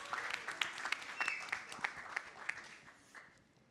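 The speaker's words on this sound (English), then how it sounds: "let's give a huge round of applause to Siddhant, please." An audience at a panel discussion on progressive India applauds, a fairly quiet burst of scattered clapping with sharp individual claps that gradually thins out and fades.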